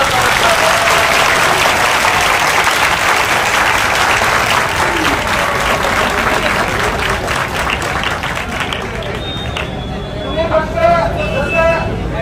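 A large crowd gathered from across Maharashtra at a protest rally applauds loudly and continuously, a thick unbroken roar of clapping mixed with crowd babble, thinning slightly near the end as a few tonal sounds emerge.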